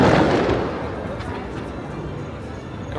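Distant fireworks display at Hollywood Studios, a continuous rumbling wash of bursts and crowd noise that starts loudest and slowly fades.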